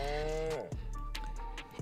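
A cow moos in The Sims 4 Cottage Living farming game, one long low call lasting about half a second, followed by softer game sounds beneath a steady background tone.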